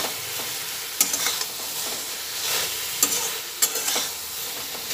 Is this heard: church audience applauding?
no